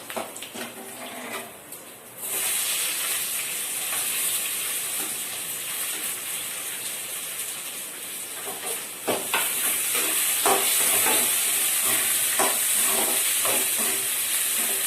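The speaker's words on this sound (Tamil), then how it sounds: "பூண்டு கொஞ்சம் வதங்கும்போது இப்போ வெங்காயம் சேர்த்துக்கலாம்" Garlic and onions sautéing in hot oil for South Indian drumstick sambar, a steady close sizzle and hiss with occasional stirring scrapes, growing louder about two seconds in and again near nine seconds.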